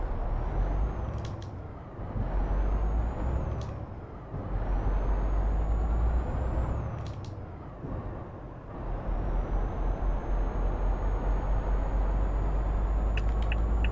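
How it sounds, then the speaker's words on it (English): Air brakes on a truck in Euro Truck Simulator 2 give sharp hissing releases over a continuous low engine rumble, several bursts spaced a few seconds apart, close and steady. "Oh, handbrake."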